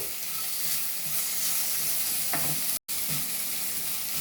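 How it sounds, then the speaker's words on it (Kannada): Buttermilk rasam masala with turmeric, salt and asafoetida frying on a low flame, a steady close sizzle with light stirring scrapes; a brief dropout near the end cuts the sound, then the sizzle resumes. "ಜಸ್ಟ್ ಒಂದು ನಿಮಿಷ ಕಮ್ಮಿ ಉರಿಯಲ್ಲಿ ಈ ಥರ ಫ್ರೈ ಮಾಡ್ಕೊಳ್ಳಿ"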